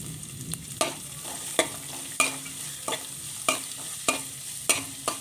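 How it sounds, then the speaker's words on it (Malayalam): Chopped onion fries in a pan for seva upma, a quiet sizzle broken by regular scraping knocks as a spoon stirs, roughly one stroke every half second, with no voices. "ഇതിലേക്ക് ഒരു ചെറിയ സവാള അരിഞ്ഞത് ഇട്ട് കൊടുക്കാം"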